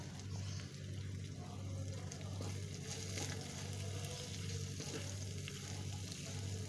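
Beef and teasel gourd filling for croquettes fries in a pan, giving a soft, continuous sizzle and bubbling hiss with occasional light stirring, faint and without talk.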